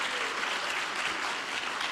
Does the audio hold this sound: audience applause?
yes